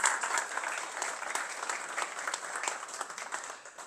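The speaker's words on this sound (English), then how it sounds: "So a big round of applause to all of you." Steady, dense applause from a meetup audience at a Laravel Greece tenth-anniversary gathering in Athens, many hands clapping at close range for a few seconds before tapering off slightly at the end.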